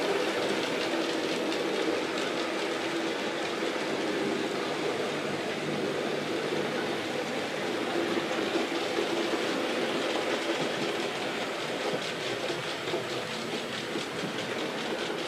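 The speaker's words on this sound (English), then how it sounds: "Here they come. The lead loco is Thorpe Hall." Model train led by the steam locomotive Thorpe Hall rolling past, a steady continuous rumble with faint clickety-clack throughout, fairly loud and unbroken for around fifteen seconds, no voices.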